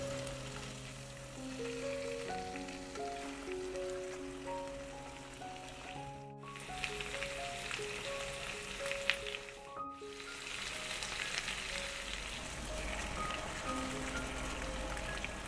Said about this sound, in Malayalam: ചിക്കൻ നന്നായിട്ട് ഫ്രൈ ആയി കിട്ടിയിട്ടുണ്ട്.